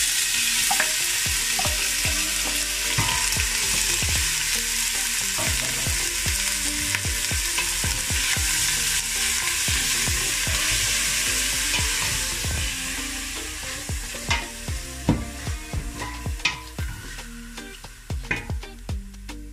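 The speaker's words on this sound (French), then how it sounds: "je vais commencer par griller la viande" Meat fries in a little oil in a saucepan for spaghetti, giving a loud, continuous close-up sizzle that softens near the end as sharp scrapes and clicks of stirring come through.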